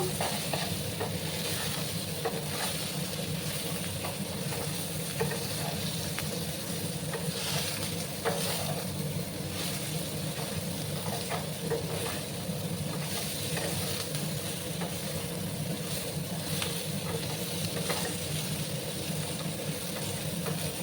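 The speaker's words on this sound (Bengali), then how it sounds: "একটু সময় নিয়ে আমি ঝিঙে আর আলুগুলোকে একটু ভাজা ভাজা করে নেব।" Ridge gourd and potato pieces frying in a pan, a close, even sizzle with soft crackles and occasional stirring scrapes that runs unbroken for about twenty seconds, with no voices.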